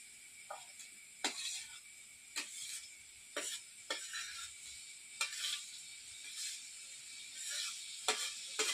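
Fried vegetables are stirred into masala in a pan, with a soft continuous sizzle broken by repeated scraping strokes of a spoon at a steady pace, close and fairly quiet.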